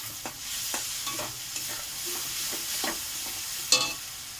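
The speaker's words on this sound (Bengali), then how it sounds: "এরপর আমি মশলা বাটা আদা জিরে লঙ্কা দিয়ে দেওয়া হলো, দিয়ে আমি ভালো করে কষাবো" Ground ginger, cumin and chili spice paste with turmeric stir-fried in a pan, a steady sizzle broken by repeated spatula scrapes and one sharper clack near the end, no voices.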